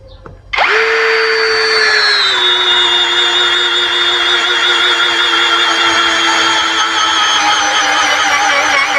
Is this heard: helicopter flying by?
no